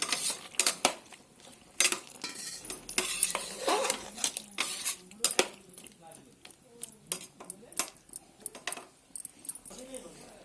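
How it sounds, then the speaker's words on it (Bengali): Lentils cooking in a pan as a little water is added, with repeated metallic clinks and scrapes of a utensil against the pan, close and fairly quiet, and some background noise between the knocks. "এবার আমি অল্প করে জল দিয়ে দেবো"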